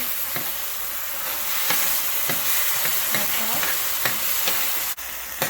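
Half-cooked onions and capsicum stir-fried with soy and other sauces in a hot pan for chicken Manchurian: a steady close sizzle with repeated scraping stirs of a spatula and one sharp knock near the end.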